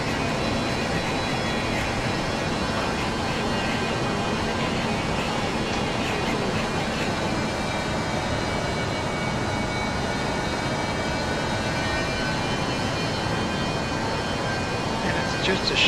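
Fokker 70 jet engines in a flight simulator game give a steady, loud broadband roar with a thin whining tone running throughout, holding an even level for the whole stretch.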